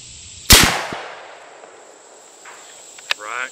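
A single loud, sharp Ruger American .308 rifle shot fired with Norma Whitetail ammunition at a 100-yard range, followed by a long fading decay, with a faint thin click a few seconds later and no talking.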